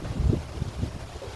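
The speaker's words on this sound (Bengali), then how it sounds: "ভীষণ ঝড় উঠে গেছে, ভীষণ।" Strong storm wind gusts over a rooftop, buffeting the microphone in low, rumbling bursts that rise and fall several times in quick succession.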